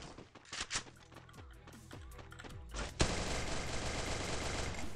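Rapid bursts of gunfire from the video game Free Fire, several sharp shots in quick succession followed by a sustained loud barrage, with no talking over it.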